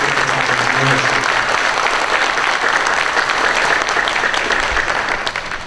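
An audience at a police awards night claps steadily in dense, sustained applause for several seconds, fading slightly at the end.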